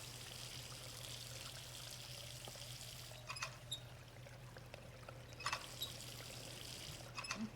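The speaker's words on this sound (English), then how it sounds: "It's a natural water spring." A natural water spring in the game Riven Remastered trickles and pours steadily, a soft continuous flow under a low ambient hum, with a few faint splashy accents.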